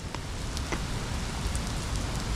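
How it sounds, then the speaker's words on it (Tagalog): Steady rain falls outdoors behind a campus statue near an amphitheater, a dense even hiss of drops with a few sharper patters, continuous and fairly close. "May araw yun, tapos may ulan."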